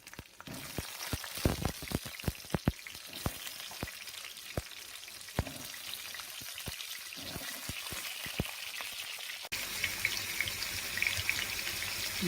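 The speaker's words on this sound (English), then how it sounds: "now we are going to add the potatoes and fry them." Potatoes frying with browned onions in a pan for a quorma biryani, a steady sizzle broken by sharp crackles and pops, close and fairly loud, changing to a smoother, brighter sizzle near the end.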